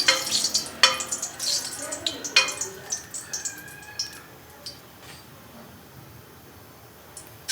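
Whole green cardamom pods, cracked open, sizzle in hot oil in a pan, with a bright crackling hiss and several sharp stirring clatters early on that fade to a quieter, steady fizz.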